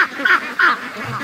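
Free-range ducks on a wet, muddy property give a couple of loud, close nasal quacks in quick succession, followed by a softer call.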